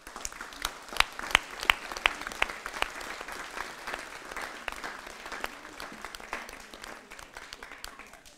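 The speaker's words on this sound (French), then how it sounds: "Je voudrais des applaudissements pour les associations de l'aide" Audience applause at a town hall New Year's greetings ceremony in Saintry-sur-Seine, honoring aid associations: a steady wash of clapping from a moderately sized crowd, with a few sharper individual claps standing out early, fading slightly toward the end.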